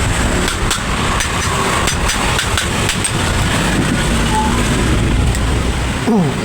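An angle grinder runs steadily after its gear has been repaired, a loud continuous motor whir with a few knocks in it, and the note winds down at the end.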